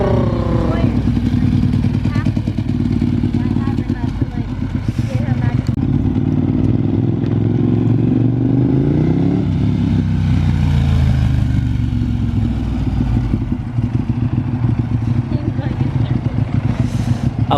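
Ducati 1198 motorcycle with a Termignoni exhaust revs loudly and continuously nearby, its deep rumbling engine rising and falling in pitch, with voices talking over it.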